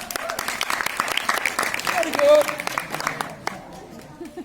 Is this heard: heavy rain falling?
no